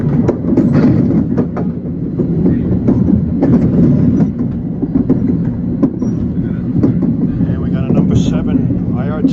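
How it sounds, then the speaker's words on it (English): An elevated subway train rumbles steadily past overhead near Queensboro Plaza in New York, with a low continuous roar, rattling wheel noise, and occasional squeaks, loud and close throughout. "Train going overhead, heading for his next stop at Queensboro Plaza."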